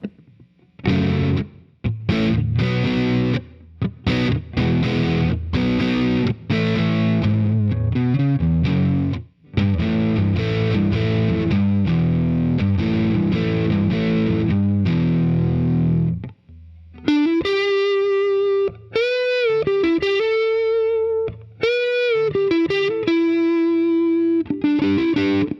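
A budget Strat or Tele electric guitar through heavy distortion plays chunky chords and riffs, then switches to sustained bent single notes and short phrases, loud and close with brief pauses between.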